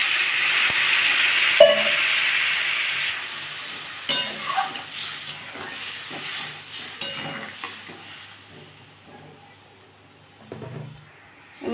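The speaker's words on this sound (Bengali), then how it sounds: "এবার আমি এর মধ্যে জল দিয়ে দেবো।" Water poured into a hot pan of mango sour with rohu fish roe, a loud hiss and sizzle at first that fades over several seconds, with stirring clinks and pan knocks scattered throughout.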